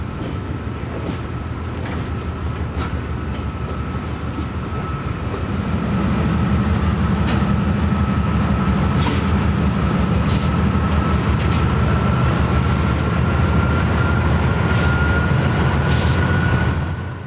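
Freight train NEO4 rolls slowly into the yard past Southern Junction, a steady low rumble of engine and rail noise that grows louder partway through and holds, with faint clicks and squeals over it.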